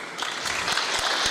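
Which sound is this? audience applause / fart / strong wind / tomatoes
audience applause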